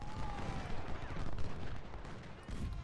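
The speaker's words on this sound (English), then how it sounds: "I'm going to fire a couple of these units on these skirmishers" Artillery and musket gunfire from the Civil War strategy video game Ultimate General: Civil War, a dense continuous rumble of booms and volleys filling the whole stretch at steady loudness.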